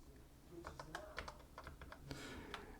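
Keys clack on a RisoPhy ultra-slim RGB 104-key mechanical gaming keyboard in a quick, uneven run of soft, close clicks at low volume, with no voices.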